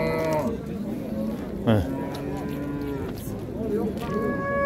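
A cow moos several times close by, long drawn-out lowing calls with farmyard sounds and some voices in the background.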